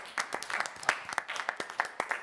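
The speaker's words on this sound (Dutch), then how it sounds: "Nou, een groot applaus voor jou." An audience at a 2021 Dutch election debate gives a winner a short round of applause: a modest, scattered clapping with distinct individual claps, fairly faint and continuous throughout.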